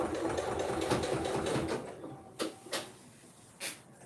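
Sewing machine stitching in a steady rapid run for about two seconds, close and fairly loud, then stopping, followed by a few isolated clicks and knocks.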